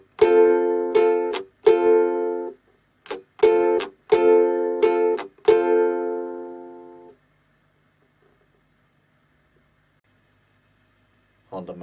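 A ukulele strummed slowly in a pop-song pattern, with bright chords cut by percussive muffled strums where the hand damps the strings. After the playing comes a long quiet ring-out, and a voice starts at the very end.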